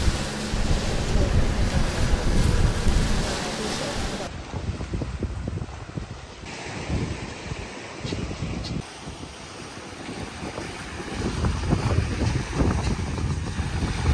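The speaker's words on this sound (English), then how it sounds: "It's really windy." Strong wind buffets the microphone on a beach on an island in the Philippines during a picnic, roaring broadband gusts blended with surf, loud and continuous throughout with brief dips, no talking.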